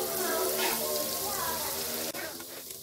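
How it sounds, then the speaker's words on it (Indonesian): Slices of white bread stuffed with banana and chocolate fry in margarine, a dense, loud, even sizzle with crackling throughout, briefly interrupted by a sharp knock near the end. "Ini enggak perlu lama-lama menggorengnya."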